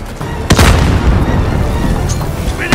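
A grenade detonates in a Warzone match: a sharp, loud blast near the start, followed by a sustained rumbling boom that lingers to the end.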